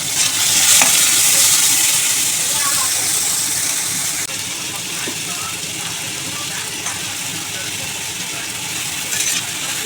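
Potato, carrot and capsicum fry in a pan, making a loud, continuous close sizzle with occasional scraping taps as the vegetables are stirred.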